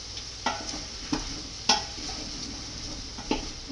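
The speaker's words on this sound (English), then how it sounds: "And I'm going to continue stirring it." Onions, garlic, dried parsley and seasoning fry in a pot for Hungarian creamy potato soup, with a soft steady sizzle and a few distinct utensil scrapes and knocks against the pot, close up with no talking.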